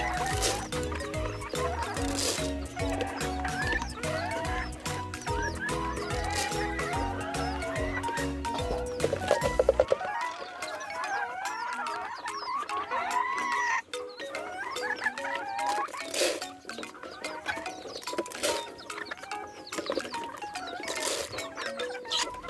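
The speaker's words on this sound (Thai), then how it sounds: "เบิ่งไก่" Chickens cluck in a rural yard at feeding time, busy overlapping clucks and calls up close, with rhythmic music playing over the first half before the birds carry on alone.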